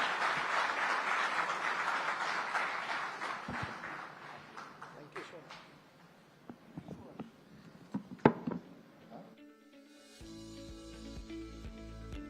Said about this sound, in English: please give him a very big hand